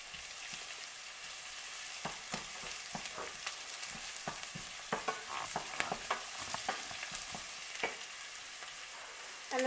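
Garlic, peppers and thyme fry in a pan with a continuous soft sizzle, punctuated by scattered small clicks and scrapes of stirring, fairly quiet with no voices.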